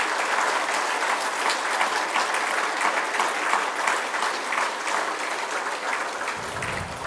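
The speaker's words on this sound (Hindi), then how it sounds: "एक बार सब एक दूसरे के उत्साहवर्धन में तालियों की गड़गड़ाहट करें।" A training gathering audience claps thunderously in unison, a steady, dense roar of applause that holds at full strength for about seven seconds without a break.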